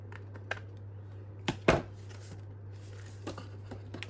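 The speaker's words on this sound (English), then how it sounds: "then I just need to do a little bit of trimming" Paper for a junk journal document pocket is trimmed at close range: a couple of quick, crisp cutting sounds stand out in a quiet room over a steady low hum, with a few faint taps after.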